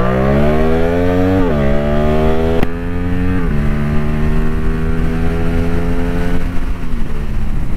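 A CF Moto 450 SR motorcycle fitted with a replica Akrapovic exhaust revs loud and close, its engine note climbing and dropping through several rises with a brief break between pulls, with no speech.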